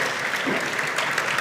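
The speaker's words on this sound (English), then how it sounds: "Let's welcome them with a round of applause." Dense, steady clapping from a conference audience welcoming speakers at a CAF Latin America and Caribbean event, filling the whole stretch at even loudness.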